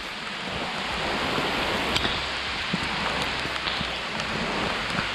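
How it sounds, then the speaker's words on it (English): Steady, heavy rain pours onto a surface on the Yellow Trail at Oak Mountain State Park, a constant dense hiss with scattered louder drops and no voices. "It's raining"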